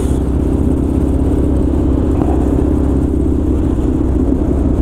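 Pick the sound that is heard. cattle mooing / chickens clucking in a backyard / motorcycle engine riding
motorcycle engine riding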